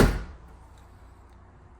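A Range Rover Classic's car door shuts with a single heavy, close thunk at the very start, then fades quickly into quiet.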